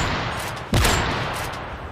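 A single suppressed gunshot in a first-person shooter video game, a brief muffled thump standing out against a steady bed of game noise.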